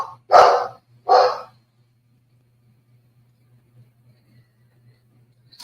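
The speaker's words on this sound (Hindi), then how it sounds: "भौंक भौंक के थक जाएगी तो चुप हो जाएगी" A lone dog shut in a room gives two sharp, close barks in quick succession, then falls silent while a low steady hum remains.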